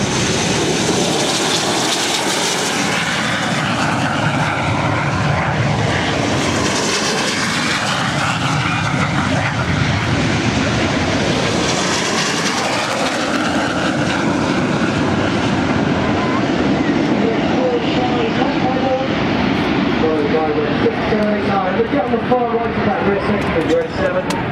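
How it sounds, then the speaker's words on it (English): Red Arrows jets take off at the 2014 Farnborough Airshow, a loud continuous engine roar that swells and shifts as they accelerate down the runway, heard under a commentator's talk. "These engines now powered up, accelerating through about 100 miles an hour already, and they'll be rotating to get airborne about 150 miles an hour."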